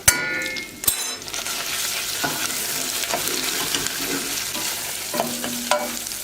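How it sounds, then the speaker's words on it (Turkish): Pepper paste and a tablespoon of mint fry in hot oil while being stirred, giving a steady close sizzle with scraping stir strokes and a few sharper clinks near the start. "karıştırıp salçayı yağın içerisinde hafif dağıtıyorum. Bir yemek kaşığı da nane ilave ediyorum."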